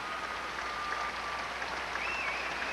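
Figure skating crowd at the 1988 World Championships applauding and stomping in appreciation, a dense, steady wash of clapping from a large arena audience that holds without a break.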